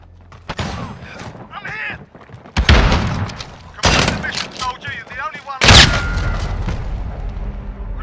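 Gunfire in Call of Duty Modern Warfare, bursts of loud shots and booming impacts in a chaotic firefight, with voices shouting between the volleys.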